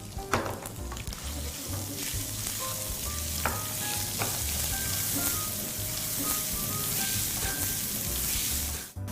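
Onions frying in hot oil in a pan for an egg dish, a steady close sizzle with crackles and occasional stirring clinks, ending abruptly.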